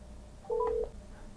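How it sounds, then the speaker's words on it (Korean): Keypad dialing tones from a smartphone placing a call through Google Assistant: a short burst of a few clean electronic beeps, one longer tone in the middle, over a quiet background. "휴대전화에 전화를 거는 중입니다"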